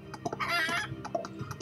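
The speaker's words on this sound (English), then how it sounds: "Oh, not this flying chicken again." A flying chicken in My Little Pony: Guardians of Harmony, a video game, clucks in quick bursts with a rising squawk in the middle, set against light game sounds.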